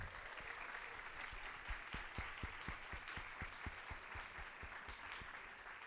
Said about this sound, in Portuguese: a Lara Moamar e a Flor Maria Vidaurre, eu peço uma salva de palmas para as nossas tradutoras